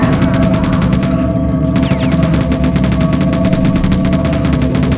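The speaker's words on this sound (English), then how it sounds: "So now you can finally use bullet weapons in Quake 1." Continuous rapid-fire bullet weapon in Quake 1, a loud, steady mechanical rattle of evenly spaced shots running without pause over a droning background hum.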